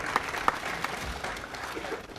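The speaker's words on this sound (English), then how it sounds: "Round of applause for all of them." Audience at a summer architecture school exhibition event clapping for academic staff: a brief patter of scattered handclaps, moderately distant and fairly soft, with a couple of sharper claps standing out.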